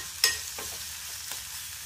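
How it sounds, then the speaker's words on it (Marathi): Chopped onions frying in a pan are stirred with a spatula, giving a soft, steady sizzle under a few faint scrapes, the first one a little sharper, all fairly quiet. "असा मस्त आपण कांदा मऊ होईपर्यंत मस्त असा स्टर करूया"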